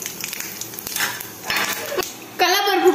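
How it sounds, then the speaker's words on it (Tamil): Mustard seeds and urad dal hit hot oil in a pan: a soft frying hiss with light clinks and stirring, then a louder crackling sizzle toward the end, with a voice speaking faintly. "நல்லா கடுகெல்லாம் பொரிஞ்சு வரட்டும்"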